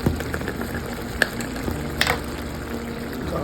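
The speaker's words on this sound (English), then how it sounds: "I'm going to add some garlic." Garlic hits a hot pan while a homemade chili is being cooked, giving a steady sizzle and fry with a couple of sharp pops and clinks of a utensil against the pan.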